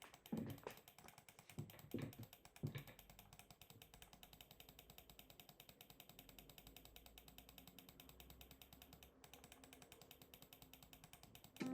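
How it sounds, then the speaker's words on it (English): Computer mouse buttons clicking right next to the microphone: a few louder presses at first, then a fast, steady, ratchet-like run of tiny clicks that continues to the end. "I'm gonna do it like right next to the mic and you can hear me clicking."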